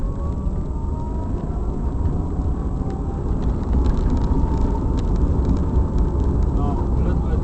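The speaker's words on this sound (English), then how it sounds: "alternator, motor is now running. Starting in third gear." A fuel car converted to electric driving in third gear, a steady low road rumble and motor whine with a faint rising tone, continuous and close inside the cabin.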